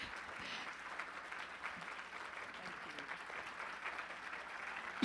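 Audience applause fills a hall at a live tribute performance event, a steady wash of many hands clapping at moderate volume that holds throughout and swells slightly at the end.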